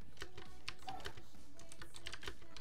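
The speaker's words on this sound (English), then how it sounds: "I'm typing it." Keys on a computer keyboard clatter in quick, uneven bursts of close, crisp taps, with no talking over them.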